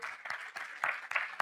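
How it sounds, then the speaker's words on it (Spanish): A forum audience welcomes a panelist with a short, continuous round of applause, dense clapping from many hands with a few louder swells. "Lo recibimos con un fuerte aplauso."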